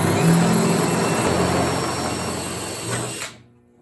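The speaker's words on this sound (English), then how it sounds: "to drill into fiberglass, actually running the drill bit backwards, and it seems to make a cleaner hole" A power drill running in reverse as it bores into a fiberglass Corvette hood, a steady loud whirring grind that holds for about three seconds and then stops abruptly.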